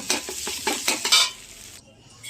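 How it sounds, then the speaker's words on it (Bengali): Two eggs being scrambled in a frying pan, a spatula scraping and tapping in a quick series of strokes over a soft sizzle, close and fairly loud, then fading into quiet frying hiss. "দেখো দুটো ডিম দিয়ে দিয়েছি, আর এটাকে ভুজিয়া করে নামিয়ে নেব"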